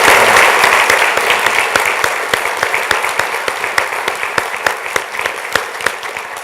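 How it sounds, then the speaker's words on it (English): Applause for recognized employees at a laboratory state-of-the-lab address starts as a dense crowd wash and thins into distinct, rhythmic individual claps that slowly fade near the end, heard close and without speech. "start with a round of applause for the employees we've recognized in that way."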